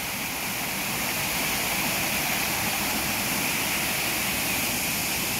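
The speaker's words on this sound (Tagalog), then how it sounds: "Sarap pakinggan yung huni ng tubig." Water rushes steadily after a signal 8 typhoon, a continuous broadband roar of flowing water close by, unbroken for the whole stretch and with nobody talking over it.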